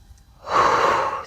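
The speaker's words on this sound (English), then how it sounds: "Really emphasize that exhale." A forceful exhale during a yoga exercise, one strong breathy rush of air lasting under a second, close and loud, with no talk over it.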